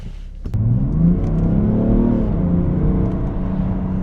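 A BMW 335d xDrive diesel starts to pull away and accelerates, a loud, rising mechanical growl climbing in pitch and holding strong close by.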